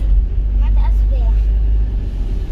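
A car engine hums loudly and steadily from inside the cabin while being driven after a shift into third, with the low drone rising slightly as it accelerates; someone speaks over it briefly.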